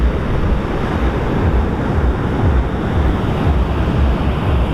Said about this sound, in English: Mighty Indian Ocean.